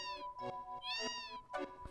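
A cat in Final Fantasy VII gives three short meows in quick succession, faint and close, alone over a low steady game background hum.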